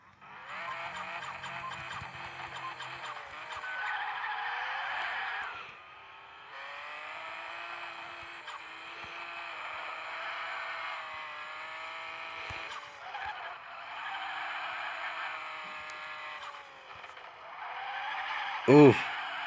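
Nissan Skyline R34 drifting along a highway in a racing game, its engine droning and revving steadily with rising and falling pitch, tires briefly squealing near the end, under light talk.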